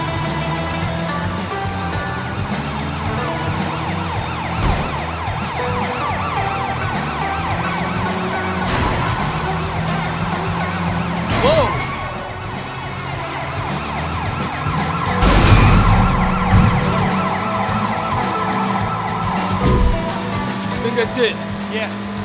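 A police car siren in the video game Sleeping Dogs wails through a busy street scene with engine noise and bursts of louder action, while voices talk over much of it.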